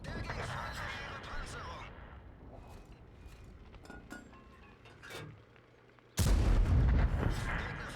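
A Leopard 1 tank cannon fires in a tank battle game, a sharp heavy boom near the end punching through quieter engine rumble and scattered clinks and shots, with someone talking over part of it.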